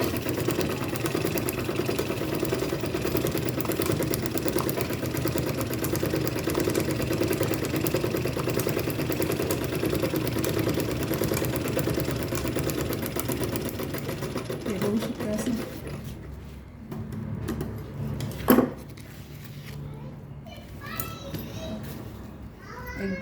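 Sewing machine stitching seams on a homemade fabric medical or makeup box, a steady loud mechanical whir running continuously for about sixteen seconds before stopping, followed by quieter room noise, a sharp clack and faint handling sounds.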